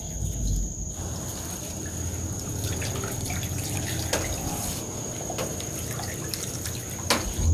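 Tap water runs and trickles while spiky fruit is rinsed under it, a faint, close splashing and dripping with occasional sharper drips and no voices.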